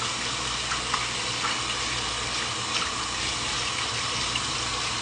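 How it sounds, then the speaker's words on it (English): Hands being washed under a running kitchen tap, a steady close gush of water splashing into the sink with small shifts as the hands move, no talking. "Wash my hands again."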